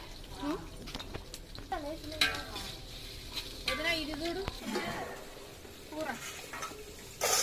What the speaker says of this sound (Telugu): నువ్వు ఈ ఉల్లిపాయలు పచ్చిమిరపకాయలు వేసేసి బాగా వేగపాలి